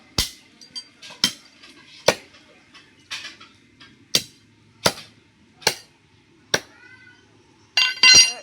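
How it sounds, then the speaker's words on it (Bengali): A cleaver (katari) chops duck meat into pieces, landing about ten sharp, close, hard knocks at an irregular pace, with a short burst of voice near the end. "এবার কিন্তু পিস করবো কাতারি দিয়ে তো এখান থেকে আগে কেটে গেলাম"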